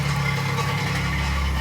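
Holden Camira engine idling steadily, a low continuous hum with a constant drone throughout, fairly close and alone with no talk over it.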